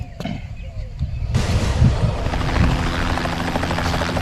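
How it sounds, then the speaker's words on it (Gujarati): A helicopter passes overhead. Its loud, steady rotor roar starts abruptly about a third of the way in and continues to the end, with faint voices before it arrives. "આ ફિરોજ નો હેલિકોપ્ટર આવ્યો."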